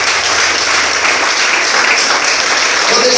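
Dense, steady applause from a church congregation fills the space, sustained and loud with no pauses, a faint voice barely present underneath.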